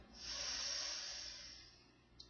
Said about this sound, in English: Last one. Deep inhale in.